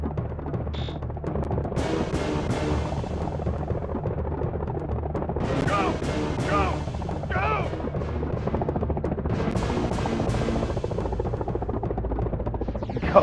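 Helicopter in the Jurassic Park video game, a constant loud rotor drone overlaid with bursts of game effects and shouted voices, continuous and dense from start to finish.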